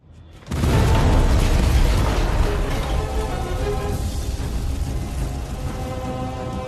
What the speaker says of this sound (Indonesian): Samidi melemparkan granat untuk meledakkan TKP untuk menghilangkan bukti penyerangan.